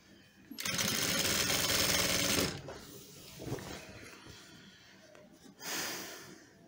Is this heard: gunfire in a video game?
no